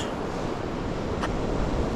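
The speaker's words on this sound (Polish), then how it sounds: "to nie jest morze, lecz to jest ocean" Atlantic ocean surf on a calm day, a steady broadband wash of gentle waves with wind rumble on the microphone, continuous and fairly close with no voices.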